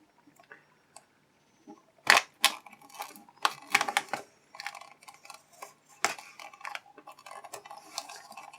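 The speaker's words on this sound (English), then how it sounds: "Let's go ahead and slice this thing open" Cobra Commander G.I. Joe 25th Anniversary figure packaging being sliced open, with sharp crackling plastic and cardboard cuts in irregular bursts, fairly close and clear with no talking.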